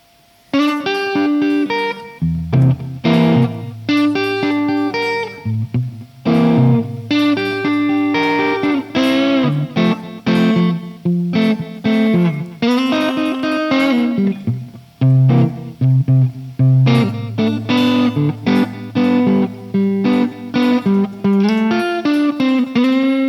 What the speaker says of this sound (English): Now Fender Black face, 70s. We have more distortion, and I'll do some different blues things.